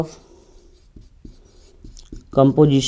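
Marker or chalk taps and scratches on a board during a biology lecture, a few short strokes spaced apart, followed by someone speaking over the last stretch.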